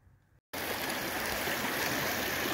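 Stream water rushing near Roaring Brook Falls in Connecticut after rain, a loud, steady broadband wash that cuts in abruptly after a brief quiet moment and continues unbroken.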